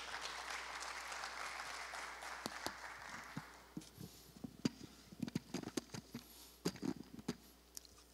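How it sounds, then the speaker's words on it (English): An audience at a 2019 Global Innovation Forum on smart cities claps to welcome a speaker, a dense wash of applause that thins out into scattered individual claps, heard from within the hall. "please welcome him with a big round of applause."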